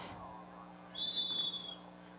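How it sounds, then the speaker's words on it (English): A referee's whistle sounds once at a women's ultimate frisbee match, a single sharp shrill blast of about half a second, moderately loud above murmuring crowd and field ambience. "that's a second whistle signaling from another game advisor about the time that has elapsed discussing this call"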